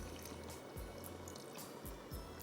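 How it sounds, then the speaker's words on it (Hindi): Water poured into a cooking pot while a curry leaf mutton curry cooks, a soft steady trickle and splash at moderate level with a few brief louder gurgles. "मैंने इसमें 1 कप जितना पानी डाल दी, ज़रा सा और डाल रही हूँ"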